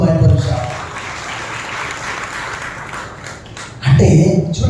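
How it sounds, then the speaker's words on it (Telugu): Applause from a church congregation clapping in Sunday worship, a dense, steady wash of hands that swells at the start, eases through the middle and surges loud again near the end. "చప్పట్లు కొట్టి ప్రభువుని మహిమపరచాలి"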